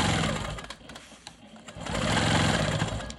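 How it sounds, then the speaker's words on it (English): Sewing machine quilting ruler-work lines on a star quilt block, a loud continuous rapid mechanical whirr of stitching that dips briefly in the middle, then runs up to full speed again. "So I'll quilt the next ruler work line over here"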